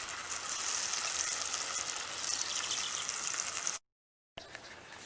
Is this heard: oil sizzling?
yes